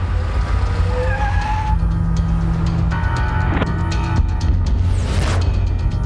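A car brakes hard and its tires skid and squeal in a few sharp bursts over a steady, loud engine rumble, with nobody talking.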